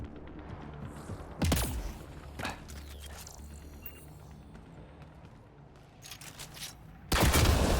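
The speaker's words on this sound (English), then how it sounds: "Shooting the device will destroy it." Shots fired at a device in Mass Effect Andromeda: two or three sharp, loud gunfire bursts, one early, a short one mid-clip and another near the end, over a low ambient game hum with no talking.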